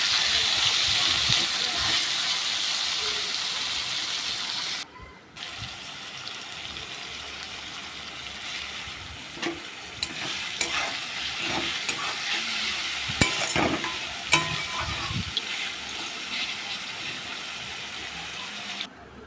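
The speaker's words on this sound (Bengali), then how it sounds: "পেঁয়াজ কুচিটা কিছুক্ষণ নাড়াচাড়া করে ওর মধ্যে কিছুটা পরিমাণ লবণ দিয়ে দিচ্ছি দিয়ে পেঁয়াজটা ভাজতে থাকবো" Chopped onions sizzle in hot oil as a spatula stirs them with salt for a chicken curry, a loud continuous frying hiss broken by scraping stirs and a brief pause, with no talking.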